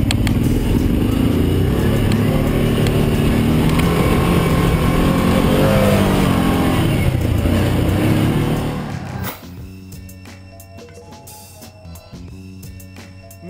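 A Kawasaki Teryx side-by-side rumbles loudly down the steep Gravity Cavity hill at the Unadilla motocross track, its engine droning steadily close by before the roar cuts off sharply and gives way to quieter ambience.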